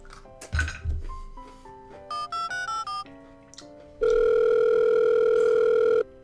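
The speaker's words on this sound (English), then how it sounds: "I'm gonna phone Santa." A telephone in a Christmas video game is picked up with a clatter, then a series of short dialing beeps sounds before a steady, loud dial tone holds for about two seconds, with no talking.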